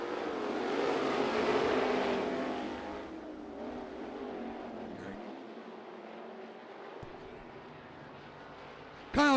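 Sprint cars racing at Bubba Raceway Park, a broad engine roar that swells and fades as the field passes, then drops to a lower distant drone.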